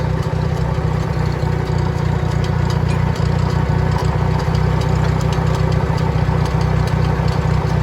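An IH 424 gas utility tractor runs loud and close, its engine chugging at an even idle with a rapid steady knock throughout while the hydraulic lift operates.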